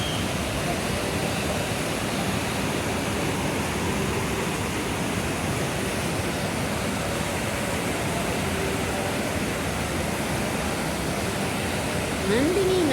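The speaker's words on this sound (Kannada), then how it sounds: "ನದಿಯು ಕವಲಾಗಿ ಹರಿದು ಎರಡು ಭಾಗವಾಗಿ ಹೋಗುತ್ತಿದ್ದು" A river near the Kateel temple runs high in the rainy season, splitting into two branches, with a steady, loud, unbroken rush of flowing water close by throughout.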